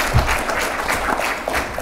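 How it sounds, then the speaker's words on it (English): Audience applause at the close of a technical forum session, a steady wash of many hands clapping in a large room with a few louder claps near the front. "Round of applause from everybody."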